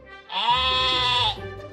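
A single sheep gives one long, loud, wavering bleat lasting about a second, close and clear with nothing else around it.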